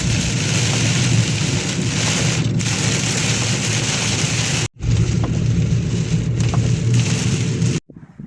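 Steady, heavy rain falls continuously on a surface on a cool, gloomy day, a dense even hiss that briefly cuts out twice, with no voices.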